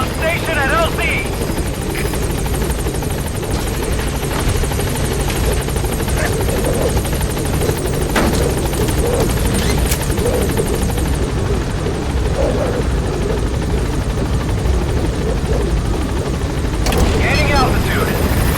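The B-Quad helicopter arrives at a landing zone in Metal Gear Solid V, its loud, close rotor thump and turbine whine running continuously under radio chatter and scattered game effects.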